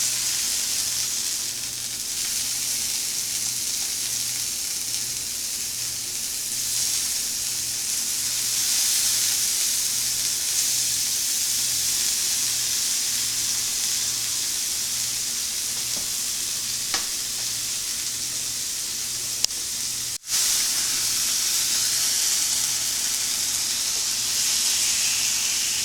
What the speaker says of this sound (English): So we're just dipping them right in that oil.